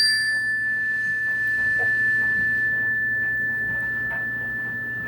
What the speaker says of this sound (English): Thanks for watching our mystery sound about the Zenergy chime.